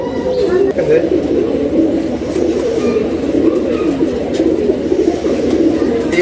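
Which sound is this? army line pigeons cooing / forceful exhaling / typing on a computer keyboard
army line pigeons cooing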